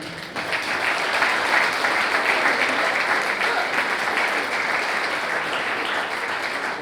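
Audience at the Australian Netball Awards 2022 applauding a panel of women, a thick, even roar of clapping that starts abruptly and holds steady throughout, with no talk over it.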